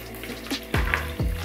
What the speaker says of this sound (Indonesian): ini kita campur dengan 1 sendok teh garam lagi, terus kita aduk-aduk